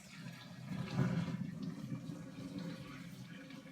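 Water sloshing and splashing as a pot is tipped out into a sink while cooking pasta, a steady moderate gush with a swell near the start and no speech.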